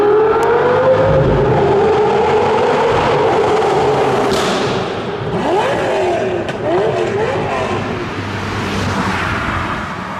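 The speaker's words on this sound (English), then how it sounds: "Waiting for pass 2 with the flaming Gallardo." A Lamborghini Gallardo roars loudly through a tunnel, engine noise rising and falling in a sustained blare with sharp pops and crackles from flames shooting out of the exhaust, echoing close by with no talk.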